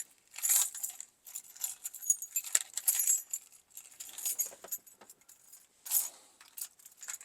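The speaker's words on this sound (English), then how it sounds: "It's my Nissan keys." A bunch of Nissan car keys jangles close by in short, irregular clinking bursts with brief quiet gaps between them.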